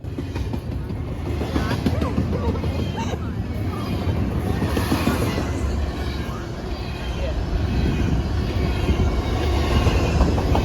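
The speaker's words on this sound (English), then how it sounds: "We were greeted by this train" A train rumbles past close by at a station, a dense rolling roar with rattling wheels and a faint high squeal, while people talk underneath.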